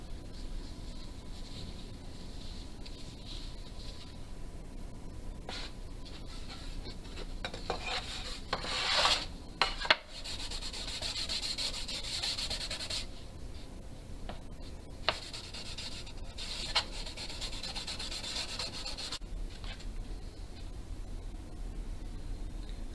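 Repeated rubbing of finish onto a wooden bowed lyre with an old rag, a soft close scrubbing rasp with brief louder strokes and pauses, no talk.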